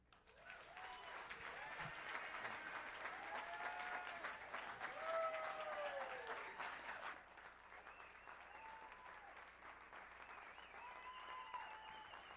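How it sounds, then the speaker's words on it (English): A crowd claps loudly and continuously at a youth center alumni speech, with scattered cheers and whistles rising above the applause before it eases slightly toward the end. "Please give him a big round of applause"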